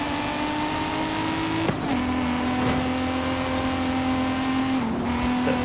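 A 1993 Nissan Skyline R33 in Forza Horizon 5 drives fast on a road at night, its engine holding a steady, close drone with two sharp drops in pitch where gears shift.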